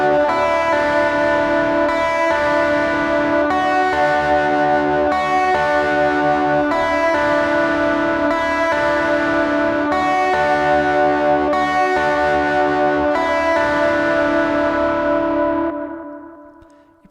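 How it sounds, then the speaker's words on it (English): Simple lead guitar line from the chorus of a song, played as sustained, echoing effected notes in a steady phrase over a low backing, loud and clear with no talking, fading out at the end. "we have a really simple lead line that we'll play,"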